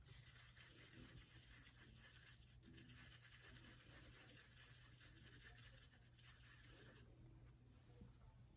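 A toothbrush scrubs gunked-up old oil on a Singer 221 Featherweight sewing machine, making a faint, steady bristly rubbing close to the mic with a low background hum.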